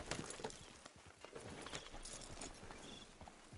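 Horse hooves clip-clop at a steady walking pace while riding in Red Dead Redemption II, soft and fairly close, with a faint bed of outdoor ambience and no talking.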